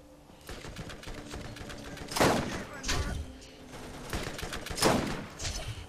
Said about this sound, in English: Oh, they're apparently machine gun turrets.